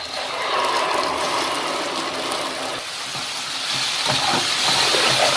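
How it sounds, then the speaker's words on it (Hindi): Tomato and green chili paste hits hot chole gravy with a loud, continuous sizzle and hiss of frying, plus faint stirring scrapes toward the end, no talk. "तो अब हम टमाटर और ग्रीन चिल्ली का पेस्ट अपनी ग्रेवी में डालते हैं।"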